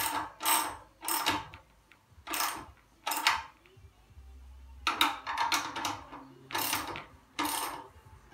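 Repeated bursts of ratcheting, clicking mechanical sound while a fixie bicycle chain is tightened by pulling the rear wheel back, about eight close, evenly spaced bursts with short pauses between them.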